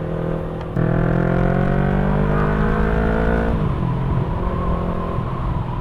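A Yamaha R3 motorcycle, a 2018 first-generation model, roars up close as the rider accelerates through the gears, the engine pitch climbing steadily and then dropping at a shift, loud and continuous with no speech.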